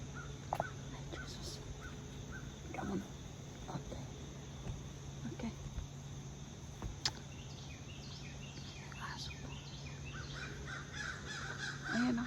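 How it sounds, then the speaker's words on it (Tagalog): Birds call outdoors, with crow-like caws and scattered chirps over a steady hum of crickets, fairly distant and quiet. "Hear the bird singing."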